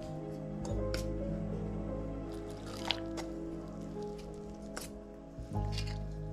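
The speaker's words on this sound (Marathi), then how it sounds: "ह्याला व्यवस्थित मिक्स करून घेऊयात" Mirchi bhaji batter is stirred by hand with salt and baking soda, making soft, wet squishing and sloshing sounds that stay faint and close, with a few small slaps.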